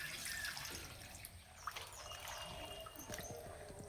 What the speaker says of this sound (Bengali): পাতাগুলো পরিষ্কার করে ধুয়ে নেব।